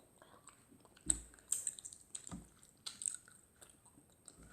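Someone chewing food while eating, with soft, close crunching and mouth sounds in irregular bites, faint and near the microphone.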